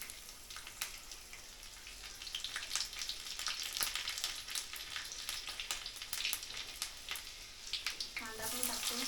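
Garlic sizzles in a pan as cooking gets under way, a steady fine crackle with sharp ticks and clicks over a continuous hiss, fairly quiet and close, with a brief bit of movement at the end.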